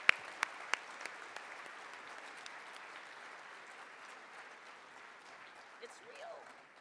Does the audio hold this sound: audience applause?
yes